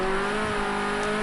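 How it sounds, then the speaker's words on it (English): Ford Escort RS 1600 race car engine in a racing video game at Laguna Seca, a steady high-pitched drone held loud and close throughout with no talk. "listen to the revs go there"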